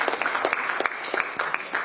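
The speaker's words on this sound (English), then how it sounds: "A bigger round of applause for him." A short burst of clapping from a small group, with individual hand claps distinct in an uneven patter and no voices over it.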